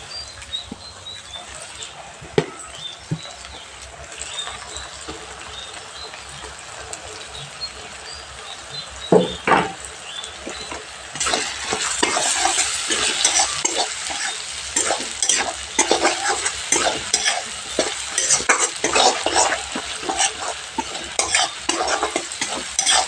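Spices such as coriander powder, chili powder and salt frying in oil in a pan for Tamil-style garlic curry, with steady sizzling and scraping stirs that grow louder and busier halfway through.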